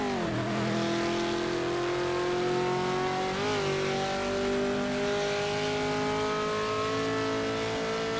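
A race car engine in the Project Motor Racing video game, GT Icons pack, holds a loud, steady high rev for several seconds, with a brief dip and recovery in pitch and no talking over it.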